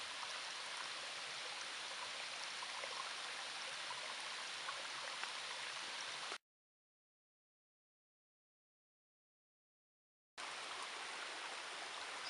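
Water rushes through a once-dry creek bed after heavy rain at an off-grid homestead, a steady broadband wash that cuts out for a few seconds of silence, then resumes.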